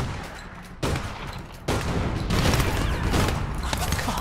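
Rapid gunfire rattles in the video game APB Reloaded, bursts of close, loud automatic shots that start abruptly and grow into dense continuous firing.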